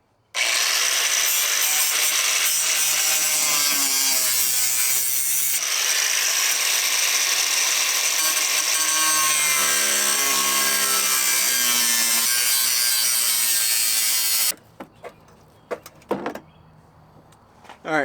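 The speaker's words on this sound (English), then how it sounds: "we're going to take our angle grinder and angle it in there, and we're just going to literally cut back" An angle grinder cuts back the pinch weld metal on a 4th gen Toyota 4Runner, a loud, continuous abrasive whine and scraping that runs nearly unbroken for about fourteen seconds with shifting pitch, then drops to scattered clanks and scrapes.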